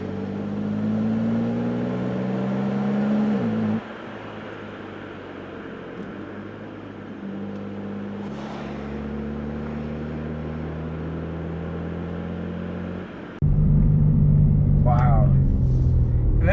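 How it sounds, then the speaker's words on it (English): 2024 BMW M3 Competition driving on back roads, a loud steady engine drone with gear-change dips and a surge of rising revs, heard from inside the cabin under someone talking. "This car handles these back roads so well."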